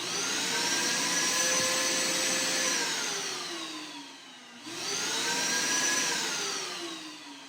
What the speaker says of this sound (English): Our vacuum cleaner is plugged into the adapter.